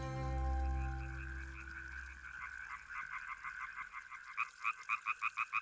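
Frogs and toads croaking among riverside reeds, a steady series of rhythmic throaty pulses that grow louder and more insistent toward the end, following a fading low musical tone.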